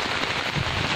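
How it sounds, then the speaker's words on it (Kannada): Rain falls steadily on a village garden, a dense, even hiss of drops with no break and no voices. "ನಿಮ್ಮ ತೋಟದಲ್ಲಿ ಈ ಥರ ಮಳೆ"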